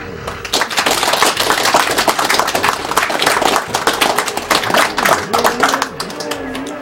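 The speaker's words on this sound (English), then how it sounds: "he deserves a big round of applause" Audience applause at a Games Done Quick charity speedrun marathon, a dense crowd clapping steadily for several seconds, loud and close with scattered claps and a few voices mixed in.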